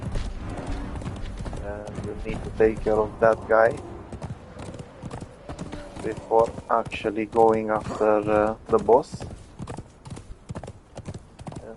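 In the game Conan Exiles, a horse's hooves clip-clop steadily close by while someone talks over them throughout.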